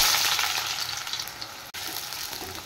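Onions dropped into hot oil in a wok, a loud bright close-up sizzle that is strongest at first and eases slightly, with a brief break partway through and no voices.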